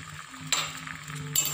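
A spoon stirring a tutti frutti mixture as it cooks in a pan, with two sharp scraping clinks against the metal over a quiet simmer.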